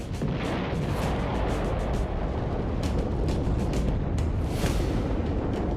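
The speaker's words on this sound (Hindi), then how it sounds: "अचानक बूम, जोरदार धमाका होता है" A loud, deep explosion sound effect roars and rumbles, with crackling bursts layered over a continuous heavy boom.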